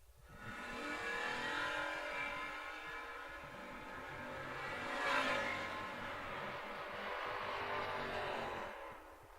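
Drag racing cars, the Danger Ranger against an S10, roar down the strip in a continuous loud engine rush that swells to a peak midway and then fades somewhat.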